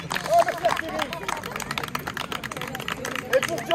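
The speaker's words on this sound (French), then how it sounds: "Et pour Jeff, un applaudissement!" Audience applause at an interactive outdoor street show, steady mixed clapping with crowd noise and cheering throughout, fairly close and loud.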